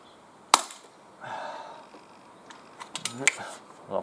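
A single sharp crack of an NTK Buster .22 pistol fired at a can outdoors, followed by quiet rustling and a few soft mechanical clicks.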